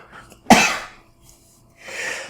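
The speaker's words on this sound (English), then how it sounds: "so I'm going to sneeze" A single sharp human sneeze bursts out close to the microphone, followed by a short breathy exhale and a second softer rush of breath a moment later.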